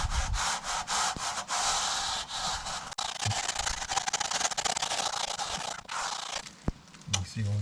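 An I-bar scratches and levels a freshly applied Parex Monoblanco render coating on a garden wall. The scraping is a continuous, close, rasping rub with brief pauses and a few knocks, steady and fairly loud throughout.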